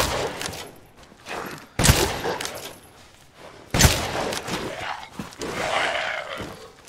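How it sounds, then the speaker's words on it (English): W870 TAC pump shotgun fired in the Resident Evil Village game, about three loud, close blasts spaced a couple of seconds apart, each with a ringing tail, amid game effects. "Only 3 shots from the W870 TAC when you have full upgrades and that special customization"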